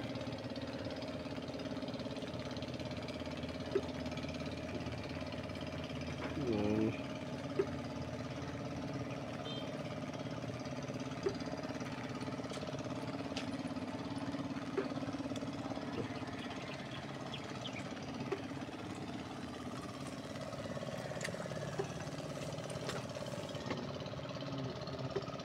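A steady, low engine idle runs throughout, fairly quiet, with faint clicks and knocks scattered over the continuous hum.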